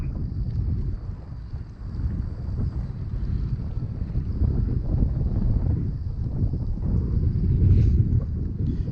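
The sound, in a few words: heavy wind while fishing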